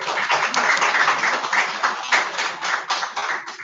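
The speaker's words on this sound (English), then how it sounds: "A great round of applause for all our chairpersons for this session" Audience at a medical conference session claps for the session chairpersons, a bright, slightly thin patter of many hands with uneven pulses, fairly close and continuous.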